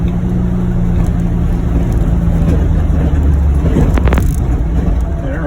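A John Deere UVX 835M utility vehicle with an HVAC cab drives down a road, giving a steady, continuous drone of engine and road and wind noise that stays at an even level throughout.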